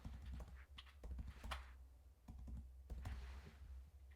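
Keys tapped on a computer keyboard while a phone number is entered into an online form, coming as short bursts of clicks with brief pauses between them, close and fairly quiet against a low steady hum.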